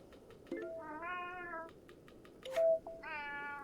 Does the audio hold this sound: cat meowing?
yes